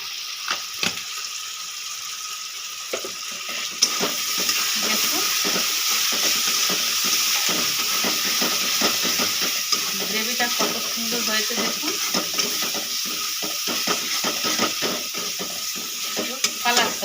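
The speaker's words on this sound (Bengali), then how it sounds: "দেখো হয়ে গেছে আমার মশলা কষানো" Masala paste of chilli powder and cumin powder fries with a steady, close sizzling hiss in a pan, while a spoon keeps stirring it and scrapes in irregular bursts through the whole stretch.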